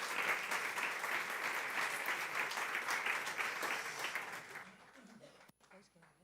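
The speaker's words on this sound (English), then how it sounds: "So a bunch of applause to them also" A scientific meeting audience on lung cancer prevention and early detection applauds steadily and loudly for several seconds, then the clapping thins out and fades near the end.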